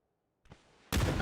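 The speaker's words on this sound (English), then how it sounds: "Nade, great nade there." A grenade explosion in PUBG on console, a sharp loud blast after a brief faint lead-in, with a dense burst of noise that stays loud to the end, with no speech.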